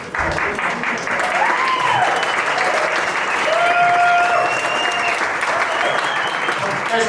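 An audience at a board of directors installation event applauds in a dense, sustained wash of clapping that stays loud throughout, with voices calling out faintly beneath it.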